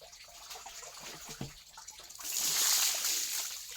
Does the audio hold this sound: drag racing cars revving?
no